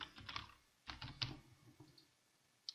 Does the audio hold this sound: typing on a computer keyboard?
yes